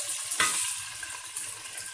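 Finely chopped onion goes into hot oil with curry leaves and spices for masoor dal, giving a sharp hiss on contact that settles into a steady, soft sizzle.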